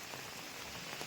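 Steady rain patters densely on leaves and ground in a forest, a soft, even hiss of countless drops with no other sounds over it.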